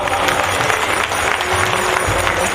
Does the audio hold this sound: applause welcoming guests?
yes